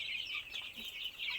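Three-week-old village chicks peep and cluck in a continuous high, wavering chorus, fairly faint with no voices.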